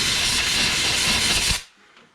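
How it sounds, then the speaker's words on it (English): An air compressor nozzle blows a short, loud, close hiss of air through a pen blank for about a second and a half, then cuts off abruptly. "And I just blow that out with the air compressor."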